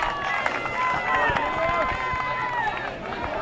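Crescenta Valley high school baseball fans at a CIF-SS game in Arcadia, cheering and whistling from a distance late in the game, heard beneath close talking.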